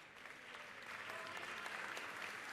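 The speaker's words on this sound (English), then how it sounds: "Give them a big round of applause" Sustained applause from the members in the Georgia House chamber, a steady broadband patter of many hands clapping at a moderate distance, building slightly and holding for the whole stretch without a break.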